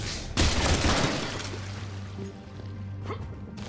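Grenade explosions in the video game Mass Effect 3: a loud burst erupts near the start and rumbles on with crackling debris, followed by lower thuds and a couple of fainter blasts toward the end.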